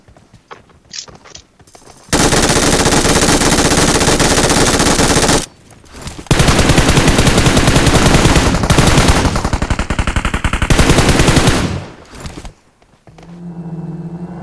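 Loud automatic gunfire in PUBG Mobile: long, rapid bursts of shots that start and stop abruptly, with two main sustained volleys separated by a short pause and quieter moments at the start and end.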